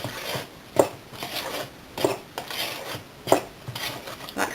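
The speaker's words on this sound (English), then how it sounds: "So just keep mixing" A spoon working a sticky rocky road brownie mixture with cherries in a bowl, rhythmic scraping and clacking strokes against the bowl every second or so, close and alone.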